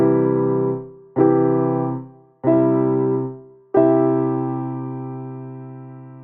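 Four major chords played one after another on an Ableton Push, each a sustained, harmonically rich synth-like tone struck and left to decay; the last rings longest, with no talking.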